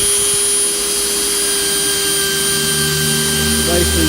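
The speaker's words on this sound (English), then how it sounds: "I really need 2 hands to use my Dremel" Dremel rotary tool grinding wood and glue off a Damascus knife, a loud steady high whine with a constant tone throughout, close up and unbroken.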